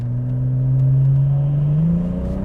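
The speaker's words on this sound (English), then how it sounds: "we're just driving through a construction zone" A Holden VL Calais Turbo, an 80s muscle car, drives through a construction zone, its engine droning loud and close as the pitch rises smoothly under acceleration.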